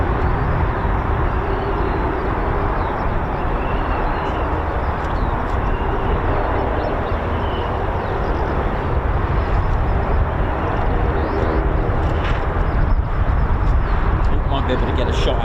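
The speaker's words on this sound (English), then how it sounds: "So that's the Beechcraft Shadow there that you can see. And that's flown and operating here from RAF Waddington." A Beechcraft Shadow surveillance plane flying at RAF Waddington gives a constant, loud, broadband engine drone that fills the whole clip without letup.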